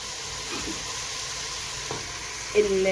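Green peppers sizzle and fry in a pan as they are stirred for a shrimp soup, a steady close hiss with faint scraping underneath and a light clink near the end.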